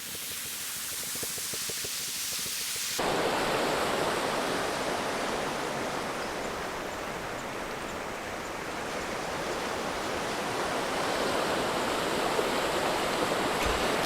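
The Murray River near its source in the Snowy Mountains of Kosciuszko National Park, flowing as a steady, loud, broadband rush of water that fills the clip, with no talking.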